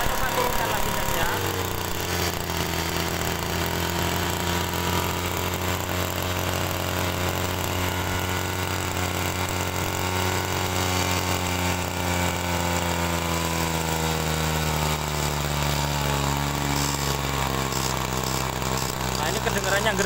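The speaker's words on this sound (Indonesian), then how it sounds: "Kedengarannya gereng ya mesinnya ya." A TU26 engine running steadily after carburetor adjustment, a loud, continuous droning hum that shifts slightly in pitch partway through, with a voice speaking over it.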